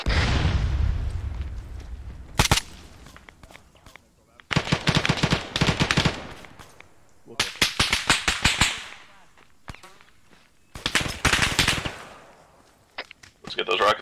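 Rocket explosions and rapid gunfire in ArmA 3 military combat, loud bursts of automatic fire in several separate volleys with sharp booms between them, and a voice speaking at points.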